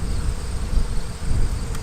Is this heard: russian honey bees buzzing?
yes